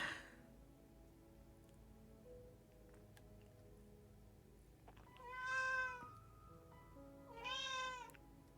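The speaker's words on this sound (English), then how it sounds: "I don't know if my mic is picking up my cat whining at me" A pet cat whines and meows twice near the microphone, each call drawn out and rising, over a steady low background hum.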